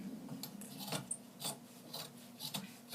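Scissors or a blade trimming excess fabric from a factory-direct swag pinned to a pleating board, heard as faint, quiet rasping strokes repeating in short bursts at close range.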